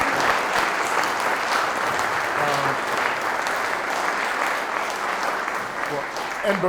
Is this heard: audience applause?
yes